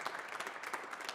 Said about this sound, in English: Yes, clap them.